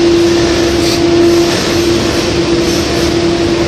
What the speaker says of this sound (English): A lot of construction going on today.